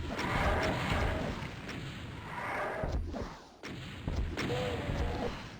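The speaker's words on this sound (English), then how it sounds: "we're going to surprise a couple of Revenants around the corner here, and we're going to fire off some rockets" Rocket launcher fire and explosions in Doom, aimed at Revenants in the Inmost Labs map: loud, dense bursts and crashing blasts running nearly continuously, with sharp breaks near the middle.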